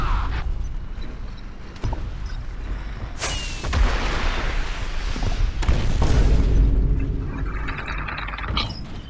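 Heavy cannon blasts from a ZT3 rocket-launcher tank destroyer in War Thunder Mobile, with a sharp booming shot near the middle and a second rumbling blast shortly after, over a steady mechanical battle hum.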